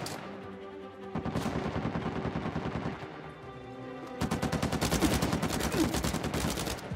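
Enemy gunfire in the video game Uncharted 4 rattles in sustained rapid automatic bursts, loud and close, with a brief lull before a long continuous volley.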